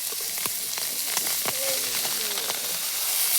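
Fish frying in hot oil in a home kitchen, a continuous close sizzle with scattered sharp pops and crackles throughout.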